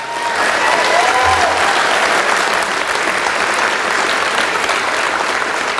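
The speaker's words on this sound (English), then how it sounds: "So give a round of applause." Sustained applause from a large crowd at a school end-of-year celebration, loud and steady clapping that fills the whole stretch without a break.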